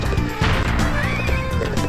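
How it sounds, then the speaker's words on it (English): A horse neighs loudly over busy game music and effects in the video game Goemon's Great Adventure, a short whinny within a dense, continuous soundtrack. "Oh, I get to get on a horse."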